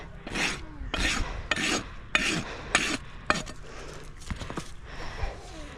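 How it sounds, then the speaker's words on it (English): Steel rasp filing a horse's hoof during a trim, a run of about six loud, rhythmic scraping strokes with short pauses, close up and without talk. "come back with my rasp, and just same thing as the other side."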